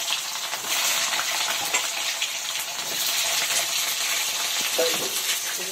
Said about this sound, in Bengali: কড়াইতে তেল দিয়েছি, তেলটা গরম হয়ে গেছে। এখন আমি আলুগুলো ভেজে নিব।